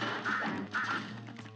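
Cartoon ducks quack in the Cuphead video game, two short nasal quacks in quick succession heard close and clear, with no talk over them.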